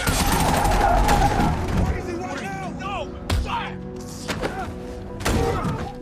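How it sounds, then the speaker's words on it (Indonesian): Gunfire in a film scene: a burst of sharp shots and heavy thuds, then scattered single reports, heard under a narrator's voice. "terjadilah sedikit keributan kecil saat Danny menembakkan senjatanya ke arah Cam"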